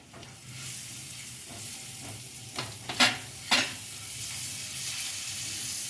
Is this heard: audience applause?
no